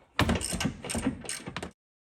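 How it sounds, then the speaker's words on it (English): A deep-well socket on a ratchet and a ratcheting wrench work loose the strut nuts on a 2009-2015 Honda Pilot, giving a quick burst of close metallic clicking that lasts about a second and a half and then stops. "So I've got a combination of a deep well socket on a ratchet and then just a ratcheting wrench."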